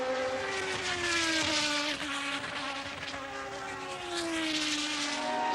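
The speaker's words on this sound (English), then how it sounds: "listen to Andretti's engine, he's in trouble" A 1977 Formula 1 car engine runs roughly during the British Grand Prix, a whining, wavering drone with shifting pitch heard at a distance in a steady race-track wash.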